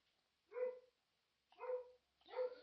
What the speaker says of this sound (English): Sorry, I have dogs.